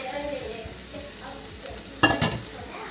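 Tomato sautéing in oil in a pan for egg and potato curry, a low steady sizzle with light stirring, then a brief louder clatter and scrape of a spoon.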